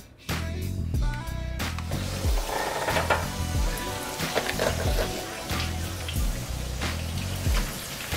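Bacon on top of a meatloaf bubbling and sizzling as it caramelizes in the oven: a steady crackling fizz with popping bursts that runs throughout, close and fairly loud, with no speech.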